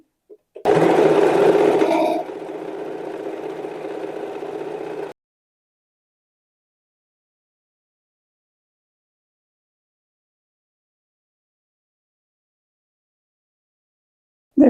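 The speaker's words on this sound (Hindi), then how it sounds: "देखो, ऐसे मोड़ दूंगी मैं इसमें सिलाई लगाऊंगी।" A sewing machine stitches seams on a small doll's dress, running in a steady loud whir for about four seconds, slowing slightly partway, then stopping into silence.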